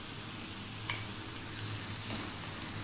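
Fresh, ripe tomatoes frying in a pan for a fish curry, a steady hiss of sizzling with faint stirring scrapes, close and continuous with no talk.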